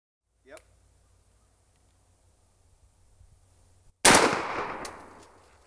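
A single loud gunshot at a bullseye target, with a sharp crack and a lingering decay, after several seconds of near silence broken only by a faint click.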